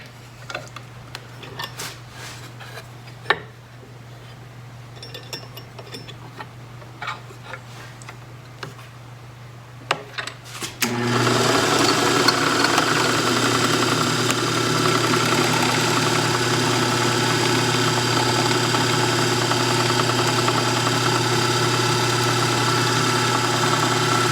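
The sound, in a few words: machine cutting mortise holes in a wooden console leg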